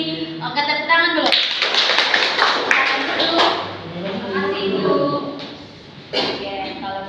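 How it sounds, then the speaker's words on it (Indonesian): A class of students clapping together in a micro-teaching lesson after singing a patriotic song, with sharp irregular claps building after a brief stretch of voices and light chatter mixed in. "Oke, tepuk tangan dulu."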